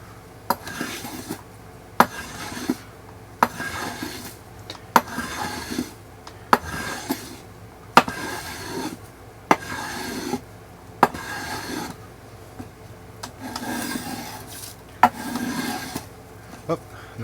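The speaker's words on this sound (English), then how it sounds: "I guess I better show a little bit of the trimming, because some people like this part too" Hand-trimming a wooden ax haft, likely with a rasp or knife: regular scraping strokes with sharp clicks about every one to one and a half seconds, close and moderately loud, with faint speech in places.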